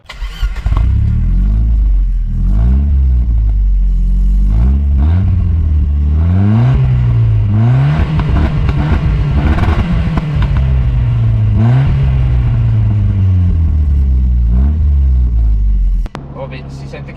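Ford Sierra Cosworth 4x4 turbo engine revs repeatedly up and down, each rise and fall clearly audible, loud and close, with people talking over it throughout.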